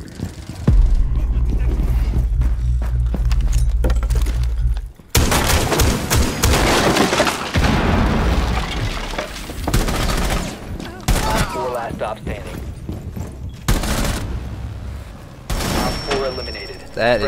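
Frag grenade and gunfire in a first-person shooter as the character Buck: a steady low rumble gives way to dense, loud bursts of shots and booms, with voices talking over the chaotic game audio.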